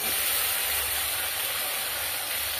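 Poppy and mustard paste sizzles steadily in hot oil, a continuous bright frying hiss held close and even throughout, with no voices.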